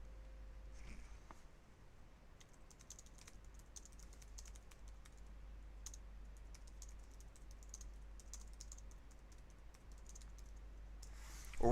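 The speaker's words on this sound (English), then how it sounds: "typing on Discord." Quiet typing on a computer keyboard, a scattered run of light key clicks and taps over a low steady hum, with no voices.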